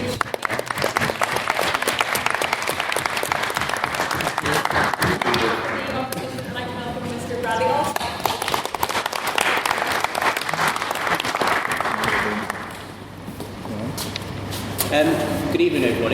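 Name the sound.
audience applause for a maiden speech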